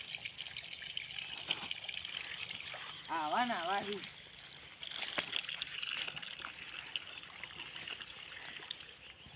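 Drinking water trickles and splashes in a thin, continuous stream nearby while a voice speaks briefly over it.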